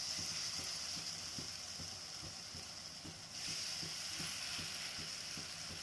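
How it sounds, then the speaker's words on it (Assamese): Lentil pakoras sizzle and crackle steadily in hot oil, with regular soft clicks of a utensil tapping the pan, close and continuous with no talking. "এই পকৰিবোৰ ধুনীয়াকৈ ভাজি ল'ব লাগিব"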